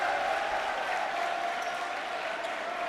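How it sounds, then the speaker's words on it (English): St. John students at a high school basketball game give an ironic cheer as a player comes off the bench, a steady crowd roar with applause filling the gym throughout. "Getting kind of an ironic cheer from the St. John students whenever he comes in off the bench"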